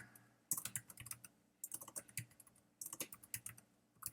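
Bursts of fast typing on a computer keyboard while entering data into an Excel spreadsheet, three clusters of quick clicky keystrokes separated by short pauses, close and clear with no talking.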